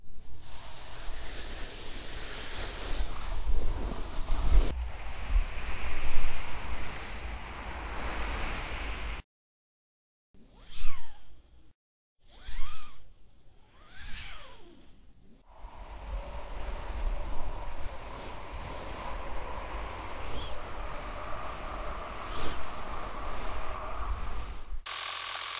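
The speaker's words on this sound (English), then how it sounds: "We're going to do some Foley for the wind, so this is actually going to be like really layers of sound," Layered Foley wind effects for a fan film, broad rushing noise that swells and fades, broken by a brief silence and a few whooshing sweeps before a steady airy roar resumes.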